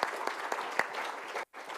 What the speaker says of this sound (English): everybody's giving Jesse a warm round of applause for doing some really cool stuff for the community.